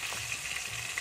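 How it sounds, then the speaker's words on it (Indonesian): Ground spice paste fries in hot oil for chicken serundeng, a soft, steady sizzle with crackling hiss running continuously at close range. "goreng dulu bumbu yang sudah diulek"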